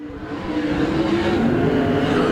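USAC Southwest sprint cars race around the dirt oval at Canyon Speedway, a loud, steady engine roar from cars held wide open on the high line, close and continuous.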